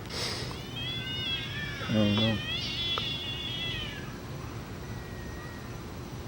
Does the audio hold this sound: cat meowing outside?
yes